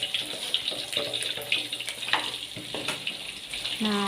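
Padang-style galangal chicken frying in hot oil, a crackling, bubbling sizzle with irregular pops, close and fairly loud, with a brief voice near the end.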